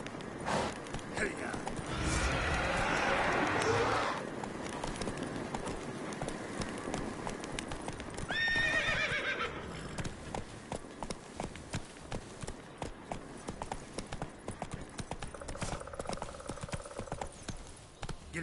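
Horse hooves clip-clop at a run in The Witcher 3, a steady rhythmic gallop throughout with a brief whinny-like cry partway, mixed with game music and a voice speaking.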